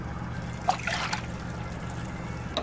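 Water trickles and splashes into a pot in a short, quiet pour, with a few small drips and a faint clink near the end.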